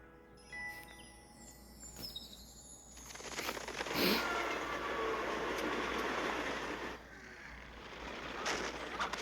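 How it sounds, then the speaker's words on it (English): A cartoon train rumbles and clatters steadily along the rails, wheels clacking with a rising rush of noise in the middle, heard alone without talk. "They're getting awfully close to the train."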